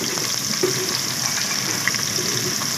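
Onions sizzle steadily in hot oil for baingan bharta, giving a soft, even crackle with a few faint clinks and no talking.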